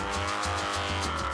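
A Honda motorcycle engine runs roughly, failing to idle, its low rumble pulsing and surging unevenly as if struggling to hold a steady idle.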